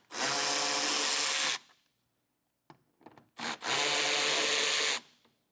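Power tool removing two 7mm bolts from inside the wheel well of a car during a Roadmaster crossbar-style base plate install, two loud sustained whirring bursts of about a second and a half each, separated by a gap with a few brief clicks.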